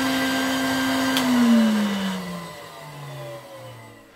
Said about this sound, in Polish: Jak odkurzałem tym odkurzaczem, to pomyślałem sobie, że trzeba to robić stylowo